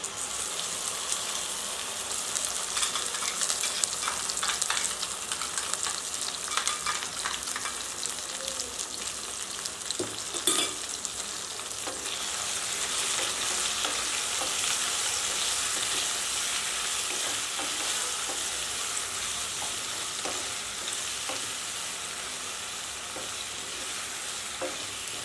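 Freshly ground masala paste frying in a pan for an Aadi Perukku rice dish, a continuous hissing sizzle with soft irregular stirring scrapes throughout, fairly even and unaccompanied by speech.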